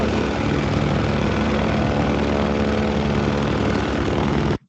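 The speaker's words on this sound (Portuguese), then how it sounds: "Aqui é uma turbina de avião." A loud, steady airplane turbine engine roar with a dense broadband hiss runs unbroken for several seconds, then cuts off abruptly at the end.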